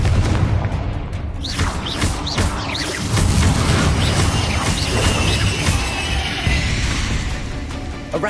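Confringo blasting spell explosions in Hogwarts Legacy on PS5, a loud, continuous barrage of booming blasts and crashing impacts in quick succession, with no talking over it.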